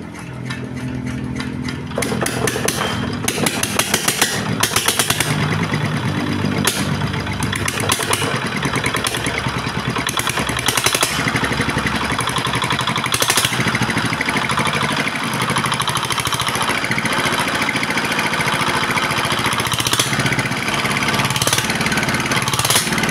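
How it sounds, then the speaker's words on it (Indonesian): A single-cylinder R175 diesel engine runs steadily after a repair, with a loud, close, continuous chugging rumble and rattle. It starts up in the first couple of seconds and then keeps running throughout with no voices. "akhirnya mesinnya sudah bisa hidup ya"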